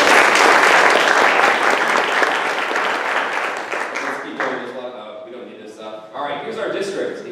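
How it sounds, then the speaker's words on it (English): An audience at a community meeting breaks into loud, full applause for Miss Carol that slowly fades out, with a voice starting to talk as the clapping dies down. "So give her a round of applause"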